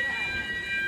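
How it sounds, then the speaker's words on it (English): A fire alarm sounds continuously in a building, a steady, piercing high-pitched tone that holds at a constant level from start to finish. "I think the fire alarm's kind of going off."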